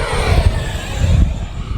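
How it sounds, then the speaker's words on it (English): A miniature RC F-16 jet fighter makes a full-throttle pass, its motor giving a loud, continuous whooshing roar with a rumbling low end throughout the short stretch, with no talking. "We'll do a full throttle pass here on this one so we can all get a feel for the speed."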